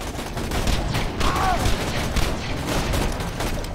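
Dense in-game gunfire from a Borderlands 2 firefight, with a steady barrage of shots and impacts under the action, fairly loud and continuous, and brief voice sounds mixed in.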